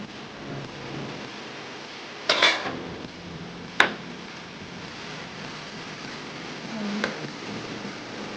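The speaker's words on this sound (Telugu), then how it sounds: "5 మినిట్స్ తర్వాత మూత ఓపెన్ చేసి చూద్దాము" A metal lid clanks off a pot of tomato curry in a home kitchen, one clear rattle followed by a sharp single clink and a faint tap later, amid soft background hiss.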